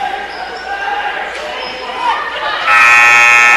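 A buzzer sounds at the end of a period during a girls high school basketball game in a gym, a loud sustained tone coming in near the end over crowd noise and chatter.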